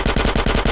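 Rapid automatic gunfire in GTA San Andreas Definitive Edition, a steady burst of about seven evenly spaced shots, loud and close with no talk over it.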